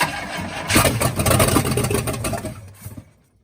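A 1966 Cadillac Eldorado engine, abandoned for 40 years, runs without an exhaust with a loud, rough, raw, clattering roar, holding steady before trailing off near the end.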